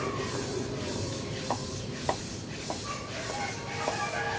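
Steady air hiss from a small motor pump filling a cow-dung biogas setup, continuous and moderately loud throughout, with a few brief clicks along the way.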